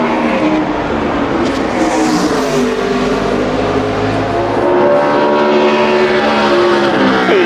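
A NASCAR Nationwide Series race car runs a 2010 qualifying lap at Bristol Motor Speedway, its loud engine roaring steadily and rising in pitch as it climbs through the gears, close and unbroken with no voices.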